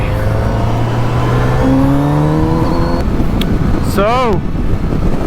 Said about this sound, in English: My Kawasaki Z900RS.